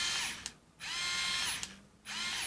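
A Bosch Go3 battery-powered screwdriver runs in two steady whirring bursts, each broken by a brief pause, with a smooth, even motor tone heard up close and alone.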